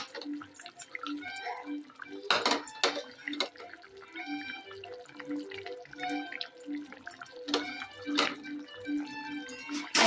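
Dried anchovy fish goes into a thick, simmering Tamil dry fish curry. A close, wet bubbling and plopping comes in uneven, steady bursts, with no one speaking.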